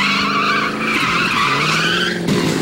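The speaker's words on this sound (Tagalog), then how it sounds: "Nakabibingi ang tila pag-iyak ng gulong sa asfalto." Race cars drifting nearly sideways on an asphalt race course at a motoring festival, tires squealing in a loud, continuous wail that holds steady throughout with engine roar beneath.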